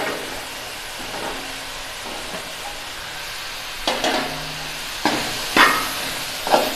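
Okra tossed into a pan of onions and tomatoes gives a soft steady sizzle, broken by a few sharper scraping and stirring clatters toward the end.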